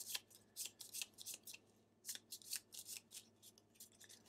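Gloomhaven board game cards being shuffled and cut, a string of quick crisp riffling bursts with short pauses between them, close and fairly quiet with no talking.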